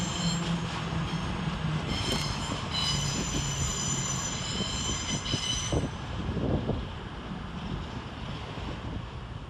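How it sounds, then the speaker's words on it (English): East Midlands Railway train 222006 departing London St Pancras station, a loud rumble and roll of wheels with high metallic squeals and a rising engine drone, heard close on the platform in a cavernous station. "in the background departed is 222006 with the 1202 East Midlands Railway service to Sheffield"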